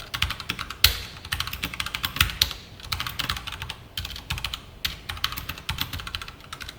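Text being typed into a form on a computer keyboard: quick, uneven clicking keystrokes in bursts with short pauses, close and fairly quiet, with no talking.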